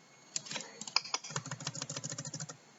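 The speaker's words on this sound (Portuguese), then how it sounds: "Estou digitando pelo teclado dos tempos da noite." Fast, uneven typing on a computer keyboard, close and crisp, with clustered keystrokes that grow denser midway through and no talking.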